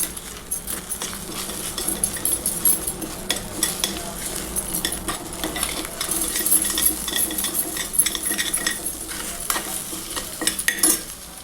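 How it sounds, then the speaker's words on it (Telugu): Noodles stir-fried in a pan over a low flame give a steady soft sizzle, with frequent metal spatula scrapes and clinks against the pan throughout, close and continuous with no talking. "అలా ఫ్రై చేయాలండి"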